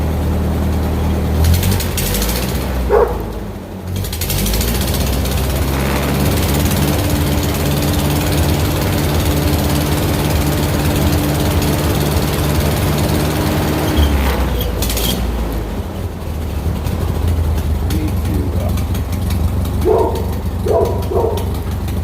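An old farm tractor engine idling with an exhaust leak, loud and close, a steady low chugging drone with ticking exhaust pulses, briefly dipping and revving midway.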